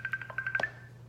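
A quick series of short electronic phone tones, about eight bright beeps in rapid succession, fairly quiet over a low hum.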